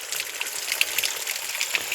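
Water from a hillside stream runs steadily downhill, a close, continuous rushing hiss with no pauses and no voices over it.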